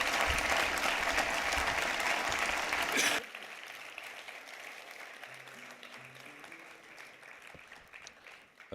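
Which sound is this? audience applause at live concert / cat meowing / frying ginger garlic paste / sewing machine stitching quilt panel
audience applause at live concert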